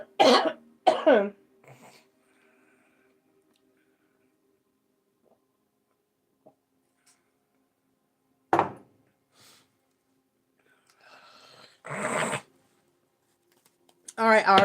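Several sharp coughs come in bursts separated by near silence, with a faint click or two in between, close and fairly loud.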